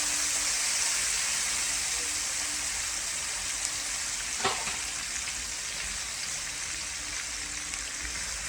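Garlic and onions frying in a pan give a steady, fairly quiet sizzle that runs the whole time, with one brief clatter partway through.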